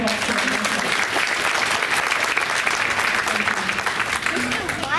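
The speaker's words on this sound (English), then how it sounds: "So let's give them a big round of applause." Audience at a school board of education meeting applauds the parent-teacher organization: steady, dense clapping throughout, loud and close, with no break.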